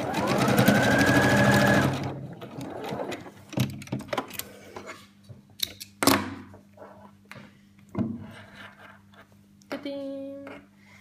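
A sewing machine runs in a steady close buzz for about two seconds while stitching a fabric keychain strap with a carabiner, followed by scattered thumps and handling knocks, with brief speech near the end.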